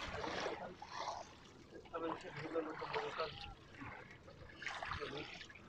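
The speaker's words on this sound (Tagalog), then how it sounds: "Malaki ang alon dito" Rough sea around a small boat sailing near the hanging bridge of Iligan City: uneven bursts of sloshing and splashing water that rise and fall in waves, with a few quieter gaps between surges.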